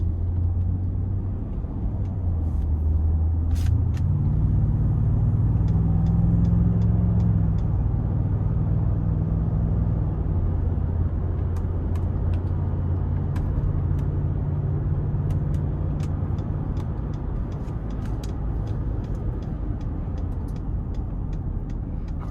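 A Ford F-150 pickup truck with about 90,000 miles runs in sport mode, a steady low engine rumble and road drone that rises in pitch as it accelerates, then settles, with faint clicks on top.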